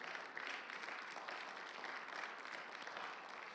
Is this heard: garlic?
no